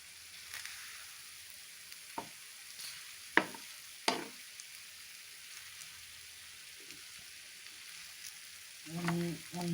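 Kerala-style beef curry with onions roasting in a pan, a quiet steady sizzle with occasional sharp crackles and pops, and a louder stirring scrape near the end.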